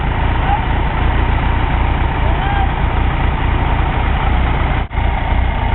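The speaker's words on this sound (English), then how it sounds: "Engine idles beautifully." A Fiat Spider engine with wrapped performance headers idles smoothly and steadily at close range, a constant low rumble with a brief dip near the end.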